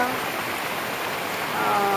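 A steady downpour hisses loudly and evenly, rain drumming on surfaces close by.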